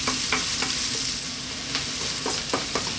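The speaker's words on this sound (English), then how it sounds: "And now our garlic. 3 minutes, keep it moving, we're on a high heat." Garlic stirred and frying in a pan over high heat, with a steady loud sizzle and repeated scraping strokes of the spoon every half second or so, close by and with no talk.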